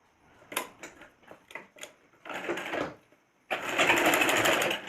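A sewing machine stitches the waistband strip of a small 7 cm petticoat, running in short bursts, then in longer and steadier runs. The whirring is close and fairly loud, with no voice over it.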